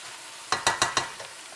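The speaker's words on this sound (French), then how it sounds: "Donc là, il faut laisser dorer la viande." Meat pieces browning in a pan with a little oil for curry make a quick run of four sharp stirring scrapes over a low sizzle, then a faint fifth touch.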